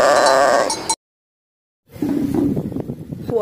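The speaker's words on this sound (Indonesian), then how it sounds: "Kambing." Goat bleating loudly and close, one wavering call, a second of silence, then a rougher, drawn-out bleat.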